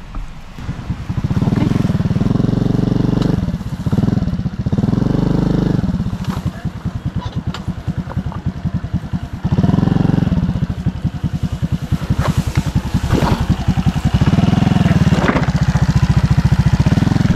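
A motorcycle engine idles and revs close by, a steady low rumble with rising throttle blips throughout.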